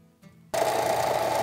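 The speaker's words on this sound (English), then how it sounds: "especially with a power sander like this, because you could really easily trim down too much" A power sander runs continuously and loudly on a wooden pen box, kicking in abruptly after a brief quiet moment and holding a steady whine to the end.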